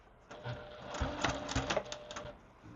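A home sewing machine runs a short stitch length during beginner quilt piecing, giving a quiet, fast mechanical chatter with light rhythmic ticks that rise and fall over a few seconds, with no talk.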